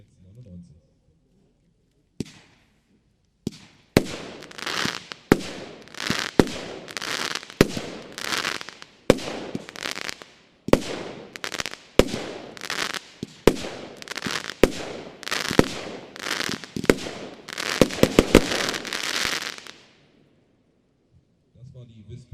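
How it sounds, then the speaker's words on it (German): A Bonfireworks Whispering Vase firework cake, 25 mm calibre with 16 shots, fires a rapid string of loud cracking bursts in an uneven rhythm over roughly seventeen seconds, some shots coming in quick clusters near the end, before falling silent. "Bonfireworks Whispering Vase, 25 mm, 16 Schuss"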